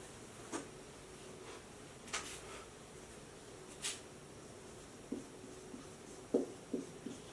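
A pen writes on paper in a quiet room with soft scratching strokes and occasional light taps, close by, in short irregular bursts over a faint background hiss.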